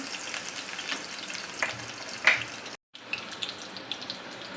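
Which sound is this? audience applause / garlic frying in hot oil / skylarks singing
garlic frying in hot oil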